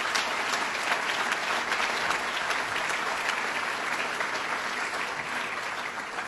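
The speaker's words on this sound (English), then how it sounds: "If you could give them a round of applause" Steady, dense applause from an audience at an awards ceremony for the 2013 Adirondack Challenge, continuous clapping at an even level with no talk over it.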